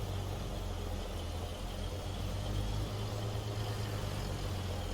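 A truck with a 3406B engine in American Truck Simulator pulling away from a standstill: a steady, loud, low diesel drone with a faint rise in rumble partway through.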